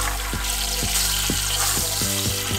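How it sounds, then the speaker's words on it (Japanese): A flour-coated tuna fillet pan-fries over medium-low heat for meunière, giving a loud, constant close sizzle with a few soft bumps and clicks from the pan. "じゃあ焼いていきます"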